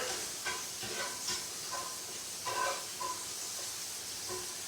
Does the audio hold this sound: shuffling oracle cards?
no